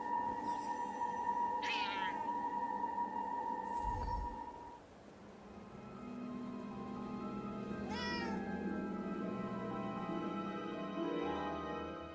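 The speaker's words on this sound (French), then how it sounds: "Hey, I think I heard a cat." A cat in the video game Forspoken meows several times with drawn-out, rising and falling cries spread across the stretch, set over a steady ambient game music bed with no talking.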